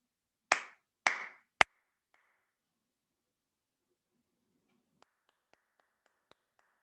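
Three sharp, close hand claps sound in quick succession in a children's clapping game in a quiet room, followed by near silence broken only by a few faint, scattered taps.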